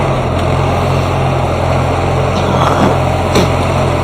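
A Farmall 400 tractor engine runs at a steady, loud idle close by on a farm, with an even low chugging throb and no talk.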